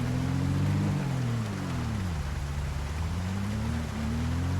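Heavy rain in a zombie survival video game, a loud continuous wash of hiss over a low engine drone that rises and falls in pitch.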